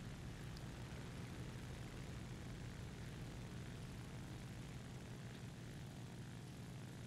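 Fixed-wing propeller engine of an FW 190 A-5 fighter at high power on takeoff in War Thunder, a steady, dense droning roar that holds constant throughout with no talk over it.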